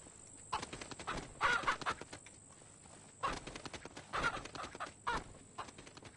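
Chickens in the horror game Pacify cluck faintly in short irregular bursts, scattered across the moment with quiet gaps between and no talk over them.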